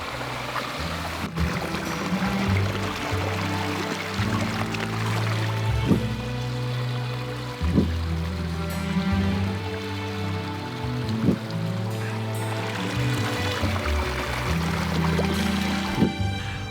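A creek in Alaskan backcountry near Port Alsworth rushes and gurgles steadily while a hiker wades across on foot, water sloshing and splashing with a few sharper knocks and thuds among the continuous flow.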